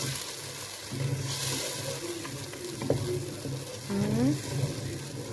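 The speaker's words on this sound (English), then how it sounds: "The tomato, blended tomato. I stir to mix." A spoon stirs a blended tomato mixture in a pot for chicken curry, making wet scraping and sloshing sounds over a low simmer. There are occasional clinks, and faint tonal sounds sit in the background.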